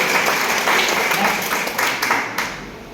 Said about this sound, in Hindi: तो मैं चाहूंगा हमारे गुरु जी के जोरदार तालियां ऐसे मेंटर्स के लिए।